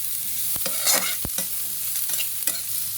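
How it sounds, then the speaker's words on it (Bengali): Vegetables and egg are lightly sautéed in a pan, with a soft sizzle under repeated scraping and tapping spatula strokes, close up and with no talking. "হালকা সতে করবো, যেন সমস্ত ভেজিটেবল আমার স্ট্রং থাকে"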